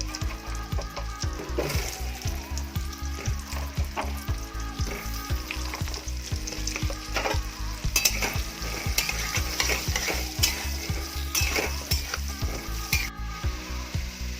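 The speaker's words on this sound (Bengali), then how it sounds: "বন্ধুরা আমার আলুগুলো মোটামুটি ভাজা হয়ে গেছে" Diced potatoes sizzle steadily in a hot pan for pav bhaji while a utensil scrapes and stirs in a regular rhythm, close up and with no voices.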